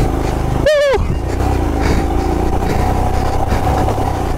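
Royal Enfield Himalayan motorcycle engine running steadily on an off-road trail near Shimla, a continuous mid-pitched drone heard close throughout, with a brief rising whistle-like tone near the start.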